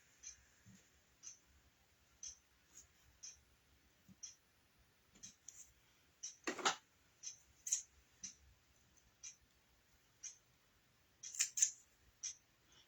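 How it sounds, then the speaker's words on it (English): Scissors trim the ribbon ends of a simple craft bow, a series of small crisp snips spaced irregularly, close and quiet, with one louder rustle midway and a quick cluster of cuts near the end. "Then I'm going to trim these edges, these ends."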